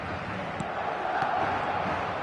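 A dense stadium crowd in an eFootball match, Real Madrid playing in the Spanish league, roaring and chanting steadily as a loud, continuous wash with no break.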